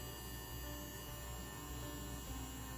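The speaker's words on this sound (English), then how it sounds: "if you can hear, it's a nice consistent hum" A tattoo machine, with its needle just adjusted, gives a steady, unbroken electric hum at an even level throughout, with no voices.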